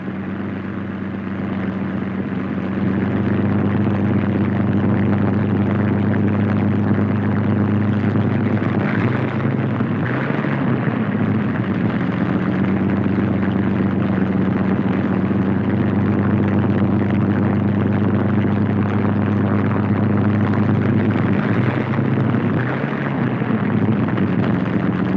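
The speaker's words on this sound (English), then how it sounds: "Plane taxis to its own hard standing, widely dispersed around the field." A 1943 P-47 Thunderbolt fighter plane taxis across an airfield, its radial engine giving a steady, loud droning rumble that runs throughout with slight swells in intensity and no talk.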